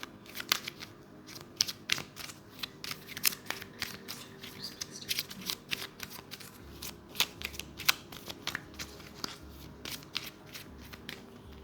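A deck of tarot cards is shuffled and dealt out, giving a long run of quick, close, crisp riffling and slapping clicks over a faint low hum.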